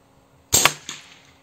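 A single sharp air rifle shot fires a 20.20-grain, 5.53 mm lead slug through a 600 mm Fiora barrel, giving a crisp crack followed by a quieter thud a moment later.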